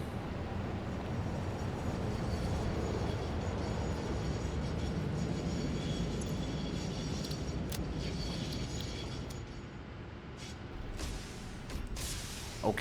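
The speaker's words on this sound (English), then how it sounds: "Where's the train? Oh, it's coming." A train in the factory-building game Satisfactory rumbles steadily as it arrives, a broad rolling drone that holds for most of the stretch before easing off, with a few sharp clanks near the end.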